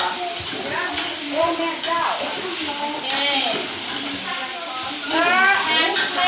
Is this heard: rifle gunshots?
no